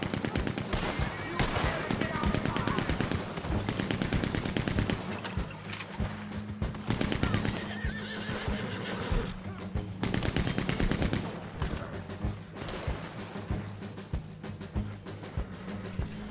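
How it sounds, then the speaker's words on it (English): A Gatling gun fires in long rapid bursts in Red Dead Online, loud and dense rattling gunfire with brief pauses, plus scattered other shots in a Western shootout. "Another Gatling gun."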